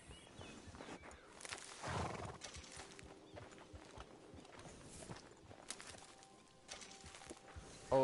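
Horse in the video game Red Dead Online, with clip-clop hoof steps and a whinny over busy game ambience, the horse sounds moderately loud and fairly close throughout.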